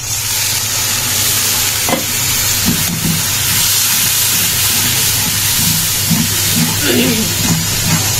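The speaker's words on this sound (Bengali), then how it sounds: "গুঁড়া মশলা, তারপরে বাটা মশলা, পেঁয়াজ দিয়ে ভালোভাবে কষাই নিব মশলাটাকে আমি" Ground and paste spices fry with onion in a pan, giving a loud, continuous sizzle with stirring scrapes on top and a steady low hum underneath.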